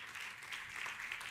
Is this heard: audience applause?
yes